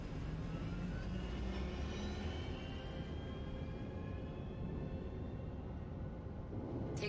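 An Anvil Aerospace spaceship in Star Citizen takes off with a broad, steady engine roar whose whine slowly climbs in pitch, sustained and fairly loud, with no talking.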